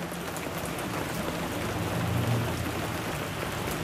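Steady rain falls on a cold, gray day, a dense continuous hiss of drops on surfaces, even and moderately loud throughout with no voices.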